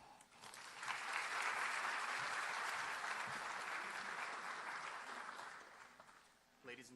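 Sustained applause from a large audience at a school district recruitment and hiring event, a dense wash of clapping that swells quickly, holds steady for several seconds, then tapers off near the end.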